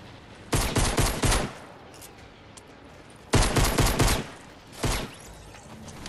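Pistol gunfire in the Fortnite video game comes in three loud bursts of rapid shots, separated by short quiet gaps, close and punchy.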